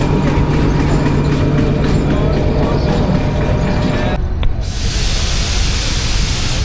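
Train coaches of the Rawal Express with a GU20 series locomotive, giving a steady loud rumble and hiss throughout that changes to a brighter, broadband roar partway through.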